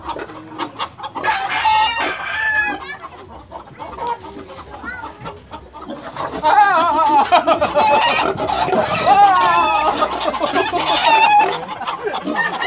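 Chickens cluck and a rooster crows repeatedly, loud and close, with overlapping calls building into a busy farmyard chorus in the second half.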